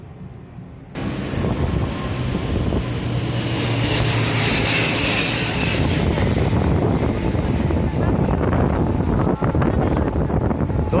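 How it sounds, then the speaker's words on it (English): A small propeller plane's engine drones loud and steady after a sudden start, with wind buffeting the microphone throughout and no talking. "Those little prop planes are so much fun"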